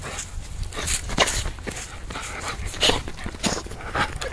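A female dog pants and whimpers excitedly close by, with scuffling paws and movement in short, irregular bursts; a voice is faintly present.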